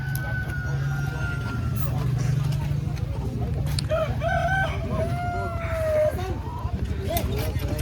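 Roosters crow loudly at Karatu Market, with long drawn-out cock-a-doodle-doos and scattered clucks over a constant crowd murmur while people talk nearby.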